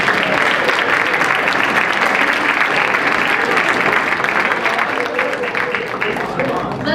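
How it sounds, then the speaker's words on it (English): Sustained audience applause at a high school business honor awards ceremony, dense and loud clapping from a large crowd that continues steadily throughout, easing slightly near the end. "Let's hold the applause until the end, just a little"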